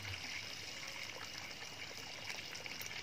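Water pours steadily from a spout into a catfish pond, a continuous broadband splashing and trickling that stays even throughout, with no one talking.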